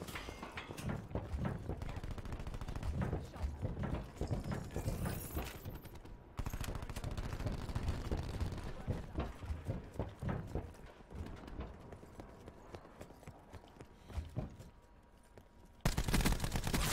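Gunfire from a Black Ops 4 team deathmatch comes in dense, loud bursts over continuous game noise, with rapid automatic fire running through most of the stretch and a brief break before a final loud burst.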